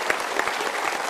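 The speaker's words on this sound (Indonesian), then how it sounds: "Kita berikan tepuk tangan dulu untuk 3 orang ini." A studio audience applauds for three people joining the stage at a Mario Teguh Golden Ways motivational talk show, steady dense clapping throughout.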